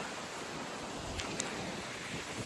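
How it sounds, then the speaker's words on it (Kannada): Wind blowing across an open spot at the Majjige pond in Antharavalli, a steady broadband rush buffeting the microphone with low rumbling gusts, continuous and fairly loud, with no voices. "ಗಾಳಿ ನೋಡಿ ಹೆಂಗ್ ಬೀಸ್ತಿದೆ"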